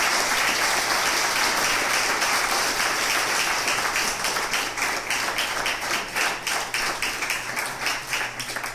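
A dense, steady round of audience applause for guests at a breakfast talk event, sustained for several seconds with many hands clapping, with no voices over it.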